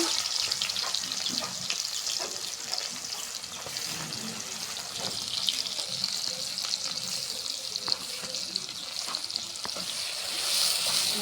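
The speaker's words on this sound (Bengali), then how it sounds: "সুন্দর করে পেঁয়াজটাকে ভাজে নেব" Chopped onion and bay leaf fry in oil in a pan with a continuous bright sizzle, close by, broken by faint stirring scrapes and taps, and no one speaking.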